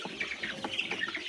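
Layer chicks being fed green cabbage for the first time cluck and peep continuously, a close, busy chatter of several birds with no talking.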